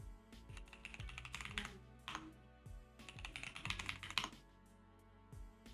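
Password being typed on a computer keyboard during a FreeBSD 15.0 setup, a quiet close run of uneven key clicks in short bursts with brief pauses, no voice.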